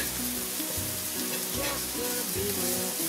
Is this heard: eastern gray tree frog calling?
no